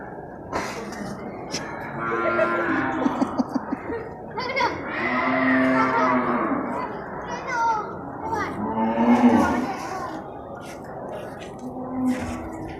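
At a busy buffalo market in Bireuen, buffalo and cattle give long, low moos again and again, mixed with a crowd of voices and people talking nearby.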